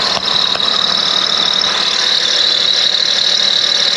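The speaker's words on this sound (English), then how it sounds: "There we go, engine restarting itself. Automatic engine start." A Lexus RX400h hybrid's engine restarts on its own and keeps running. It gives a steady, loud mechanical hum with a high-pitched whine or squeal layered over it, continuous throughout and with no talk.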